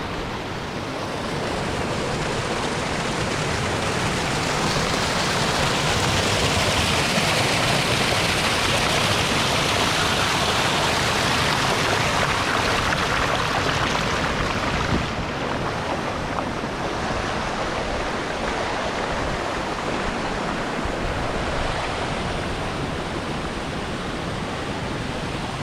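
Virgin Falls in Tennessee pours down as a steady, loud, broadband roar of falling water that holds for the whole stretch, with no other sounds standing out.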